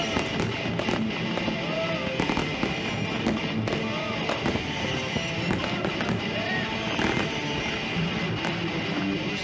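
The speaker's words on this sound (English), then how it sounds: "Aerial fireworks are completely illegal in the city and county of Honolulu." Aerial fireworks burst over Honolulu on New Year's, with dense, continuous crackling and frequent sharp explosions, some whistling rockets, layered near and far.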